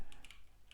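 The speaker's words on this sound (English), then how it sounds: "you press the Windows key on your keyboard, and then you can just start typing" Keys tapped on a computer keyboard, a few soft, quick clicks spaced unevenly over a brief stretch, close and quiet with no talking.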